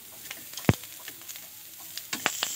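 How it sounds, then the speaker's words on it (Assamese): Sweet corn kernels frying slowly in a pan over low heat, giving a quiet steady sizzle scattered with sharp crackles and a few louder pops, heard close and alone. "একদম কম জুইত ভাজিব লাগিব ইয়াক"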